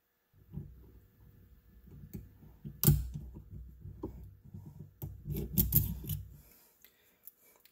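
Snap ring pliers working a circlip off a gear inside a Yamaha Raptor 660 transmission, sparse metallic clicks, scrapes and a sharp snap, close and quiet with no talking.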